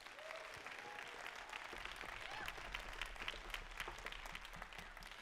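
A concert hall audience at a high school jazz concert claps steadily, a dense continuous wash of hands with a couple of faint whoops early on and a low rumble underneath.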